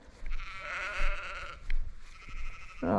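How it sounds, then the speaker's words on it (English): Sheep bleat several times at a roadside, fairly close, with a motorcycle's engine and road noise underneath and a louder bleat at the end. "Oh, hello sheep."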